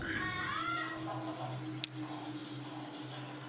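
A cat meows in the Kentucky Route Zero video game, a few rising and falling cries early on against a steady low musical drone, followed by a brief sharp click.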